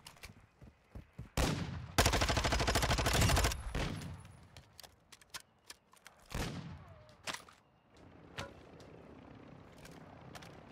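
Automatic gunfire rips in a long burst, then more shots and scattered bursts follow, loud and near, during an NPC fight in Warzone 2.0 DMZ.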